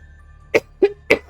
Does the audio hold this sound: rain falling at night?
no